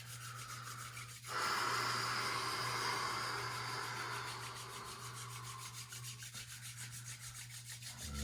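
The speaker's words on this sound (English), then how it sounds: "Rubbing the hands, super fast." Hands rubbed rapidly together during a mountain core yoga session, a steady close dry rasping friction that swells loudly and then eases into softer, quicker rubbing strokes.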